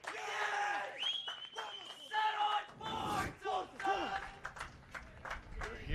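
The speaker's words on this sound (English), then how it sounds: "We're hearing a lot of opposing fans here in the house cheering on Tulsa." Opposing fans in the crowd at a college men's tennis match cheer and yell for Tulsa, with loud whoops, shouts and scattered clapping rising and falling in bursts, while a voice talks in the mix.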